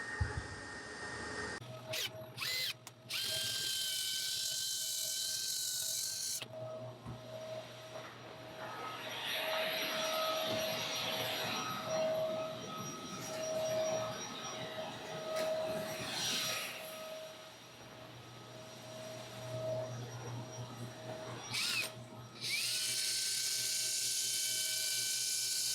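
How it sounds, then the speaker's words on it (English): A power sander whines steadily against a burl wood turned bowl for a long stretch, its pitch shifting as it works, with pauses where the motor stops. "Okay, sanding was nice."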